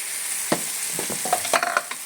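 Tuna sautés with garlic, onion and tomato in a pan, a steady low sizzle punctuated by several close scraping and clacking stirs of a utensil, with no talk.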